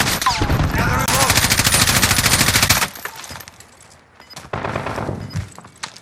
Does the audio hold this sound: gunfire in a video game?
yes